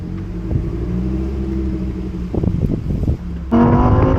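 A Lamborghini Huracan Evo Spyder pulls away with a steady low engine rumble that swells into a louder, sharper rev near the end, close and continuous with no talking.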